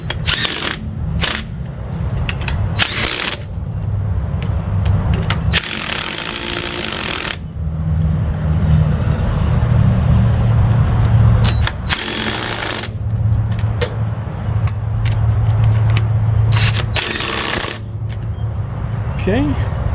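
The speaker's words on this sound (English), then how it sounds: "I'll get my torque wrench, we'll torque them down." A ratcheting torque wrench tightens bolts on an old tractor under restoration, with loud sharp metallic clicks and ratchet bursts over a continuous low mechanical rumble in a workshop.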